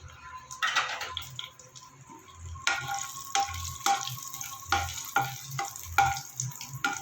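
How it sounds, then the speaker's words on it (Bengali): A whole dried chili, whole garam masala and cumin seeds crackle in hot mustard oil for an egg curry, making a close, steady sizzle broken by repeated scraping stirs. "এবার আমি দেবো ফোড়নে একটা গোটা শুকনো লঙ্কা আর গোটা গরম মশলা আর গোটা জিরে"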